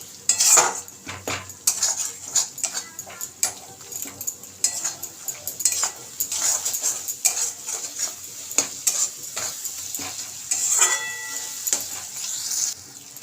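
Spice paste is stir-fried in a pan for a Bengali parshe fish dish, with a spoon repeatedly scraping and clinking against the metal over a steady oily sizzle, close and busy with no talking.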